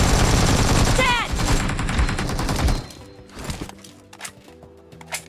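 Rapid automatic gunfire from the video game PUBG rattles loudly and close for about three seconds, then trails off into scattered game sound effects.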